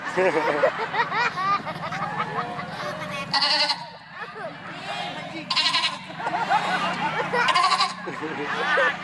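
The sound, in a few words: person imitating a young goat bleating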